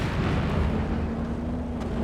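Anti-tank guns firing in a Company of Heroes 2 match, a steady wall of low, rumbling battle noise with booms blended into continuous dense combat sound, no clear separate shots.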